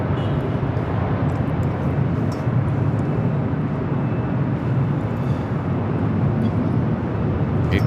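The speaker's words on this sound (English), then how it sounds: "SAS Flight 932 heading back to Copenhagen at an" An SAS Airbus A350-900 jet at Los Angeles airport gives a continuous deep rumbling roar. The sound stays fairly even and loud throughout, with no voices over it.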